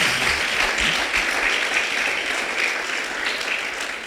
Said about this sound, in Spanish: denle una buena ofrenda de palmas